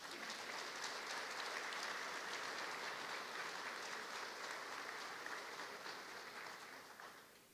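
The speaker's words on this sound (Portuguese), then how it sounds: "Pediria para o Coronel Amerino Raposo uma salva de palmas" A round of applause for Colonel Amerino Raposo at a lecture, a broad, even wash of many hands clapping, fairly faint and distant, holding steady before fading out over the last second or so.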